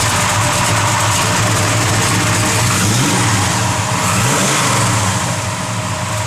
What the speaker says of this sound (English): Got a good sounding big block.